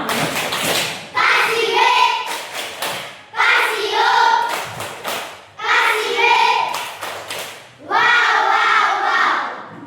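An elementary first-grade class does the 'tepuk wow' clapping routine in four repeated cycles, each a run of quick unison claps followed by children's voices chanting together, loud and close.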